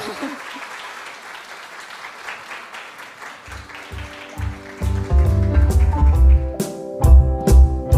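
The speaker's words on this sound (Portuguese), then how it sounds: "vamos receber com fortes aplausos" Applause from an audience welcoming author Keila Araújo on stage at a children's ministry event, a steady wash of clapping that swells louder in the second half with music starting up underneath.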